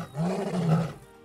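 A single deep, rumbling roar of a dominant lion in the video game Wild Savannah, close and loud, swelling and fading over about a second with nothing else around it.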